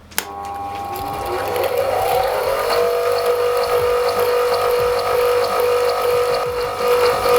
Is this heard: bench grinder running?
yes